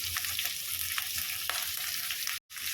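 Chopped onion and capsicum fry in white cooking oil in a pan, giving a steady close sizzle broken by a few scraping stirs and a brief dropout near the end.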